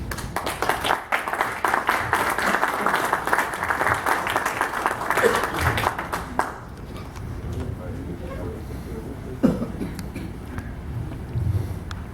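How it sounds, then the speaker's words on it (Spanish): Audience applause at a professional association session in Tampico, about six seconds of sustained clapping that stops abruptly, followed by quieter room noise and faint murmuring. "aplausos por lo pronto."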